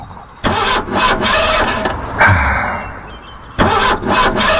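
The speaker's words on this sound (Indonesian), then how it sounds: "Aku coba berkali-kali menstarter mobilku." An old car's starter cranks repeatedly without the engine catching, three loud whirring bursts separated by short pauses, close up with no talking.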